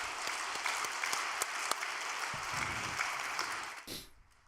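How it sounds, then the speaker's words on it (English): A steady round of applause from an audience at a large religious gathering, many hands clapping at an even level before the sound cuts off sharply near the end. "Why don't we give a big round of applause for them?"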